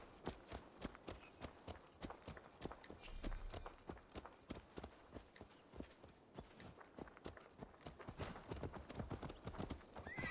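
Rapid clip-clop of horse hooves at a run in the video game Assassin's Creed Valhalla, steady and fairly close, with a horse whinnying partway through.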